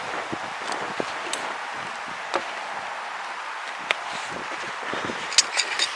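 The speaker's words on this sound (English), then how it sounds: "Now it's a bit windy today" Steady wind blows outdoors around a small Trangia camping stove, with soft gusty rustling and a few light knocks and taps scattered throughout.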